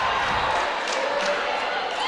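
Crowd at a women's college basketball game at Meredith roars in a steady, dense wash of cheering after a made three-pointer, with no clear pauses across the stretch.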